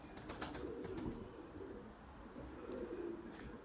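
Cooing of a white male Bucalı tumbler pigeon, faint low soft calls repeating in slow pulses outdoors, heard alone with no talk.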